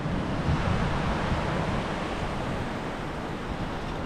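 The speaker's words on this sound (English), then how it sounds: "And here's the river." River flowing past a village in Ulvik, Norway, heard as a steady, even rush of water with some wind noise, continuous and fairly close, with no voices over it.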